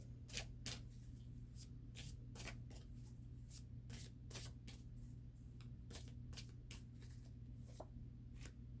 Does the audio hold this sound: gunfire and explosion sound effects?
no